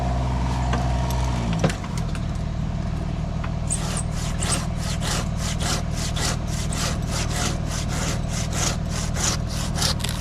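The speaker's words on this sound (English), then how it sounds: "So I utilize the handsaw a lot." A handsaw cuts deadwood off an oak tree with rapid, regular rasping strokes, close and loud over a steady engine hum running underneath the whole time.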